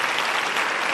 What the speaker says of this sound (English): That's a bigger applause